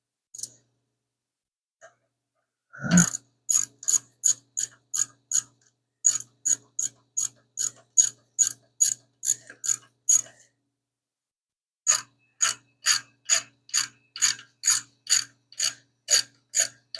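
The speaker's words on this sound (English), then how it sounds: "Now we gotta torque the rocker arm shafts down." A ratchet wrench clicks in steady bursts while the rocker arm shafts are torqued down on a 5.7 Hemi engine, crisp close ratcheting strokes with a brief pause midway and no talking.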